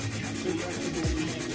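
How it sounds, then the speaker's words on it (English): Hand sanding of a carbon road bike frame under repair, a short run of close, scratchy rubbing strokes with a steady rhythm. "Okay, so just sanding the other side."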